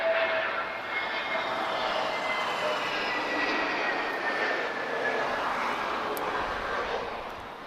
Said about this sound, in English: 1558 arriving from São Vicente, A320neo.